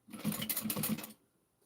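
A sewing machine stitches together a modified mini backpack, a fast, close whirring run of about a second that stops abruptly, followed by quiet.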